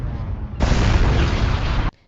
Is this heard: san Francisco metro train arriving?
no